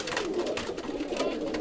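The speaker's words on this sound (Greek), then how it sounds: "Πόσα πουλιά έχεις πετάξει, Μητσό?" A flock of pigeons, released by a fancier at an outdoor loft, coos and stirs nearby, giving a soft ongoing murmur of calls and rustling, with no voices over it.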